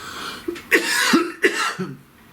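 Several harsh coughs close up, three or four bursts spaced about a second apart, with brief quiet between them.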